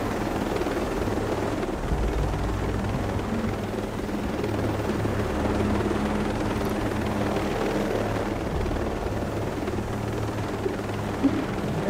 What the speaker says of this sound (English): This helicopter is fast.